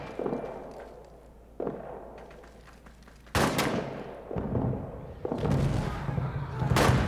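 Artillery fire in a WWI trench combat video game: a run of loud, heavy booms and blasts arriving close together, each with a sharp onset and a long rumbling decay, the later ones louder and denser, with no voices.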